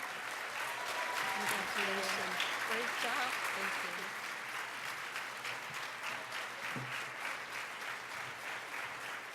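An audience applauds steadily at an awards luncheon after a first-place award is presented, the dense clapping lasting the whole stretch with voices speaking underneath and a slight easing toward the end.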